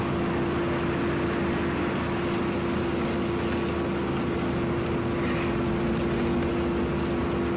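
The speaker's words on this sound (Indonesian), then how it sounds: "Proses selanjutnya setelah diratakan langsung dipres ya dengan pres mesin ini" A road compaction machine presses freshly levelled asphalt during overnight road repair, giving a loud, steady engine drone with a constant low hum that runs unbroken throughout, with no talking.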